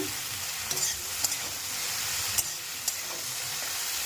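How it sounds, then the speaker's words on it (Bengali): Steady sizzling of okra frying in oil in a pan, a continuous bright hiss with a few soft clicks and pops, no voices. "আরও কিছুক্ষণ ভাজা করলেই হয়ে যাবে,"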